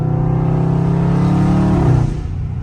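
A Dodge Charger Scat Pack at full throttle, its V8 roaring loud and close with a steady harmonic drone that holds, then drops off as the throttle lifts near the end.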